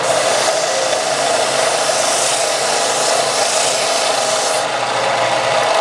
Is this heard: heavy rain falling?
no